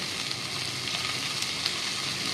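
Tomato frying in a pan for a curry, a continuous bright sizzle with small pops, moderately quiet and steady with no talk.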